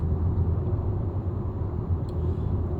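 A Chevrolet Camaro SS with a 6.2-litre V8 engine gives a steady, loud, low rumble that holds without a break, with no voices over it.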